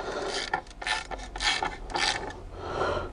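A ratchet clicking in short bursts while tightening a bolt on the alternator of a Chrysler 300C CRD 3.0 diesel, close and fairly loud with a few pauses between strokes.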